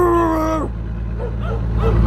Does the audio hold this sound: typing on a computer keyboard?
no